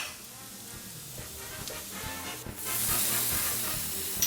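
Tomatoes tipped into a pan of softened peppers seasoned with spice blend, for vegetarian salsa verde enchiladas, hiss into a steady steamy sizzle that swells louder partway through and holds close.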